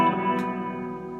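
An electric guitar note in the David Gilmour style rings out and sustains, drenched in heavy reverb, fading slowly after a brief bright scrape, played alone.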